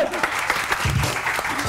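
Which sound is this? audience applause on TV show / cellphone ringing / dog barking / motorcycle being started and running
audience applause on TV show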